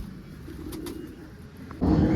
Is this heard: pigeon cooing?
yes